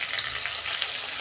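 Ginger garlic paste sizzling in hot oil while cooking a prawn malai curry, a brief, soft, steady frying hiss with no voices.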